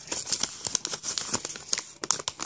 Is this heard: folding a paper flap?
yes